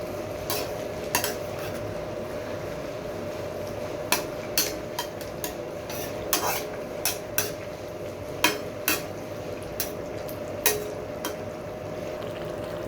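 Metal spoon stirring fish curry with fried eggplant in a pan, a series of sharp scraping clinks at an uneven rhythm over a soft, steady simmer, close and fairly quiet, with no talking.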